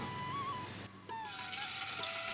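Marinated prawns are dropped into hot oil, and a dense, bright sizzling hiss swells up after a brief dip, continuing steadily and fairly close.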